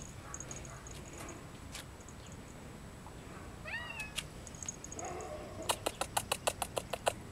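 A cat on a leash outdoors in the dirt gives a few meows, followed by a fast run of sharp clicks and rustles near the end over quiet outdoor background.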